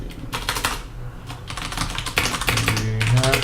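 Steady, rapid typing on a computer keyboard, close and fairly loud, continuous clicking with a low background hum.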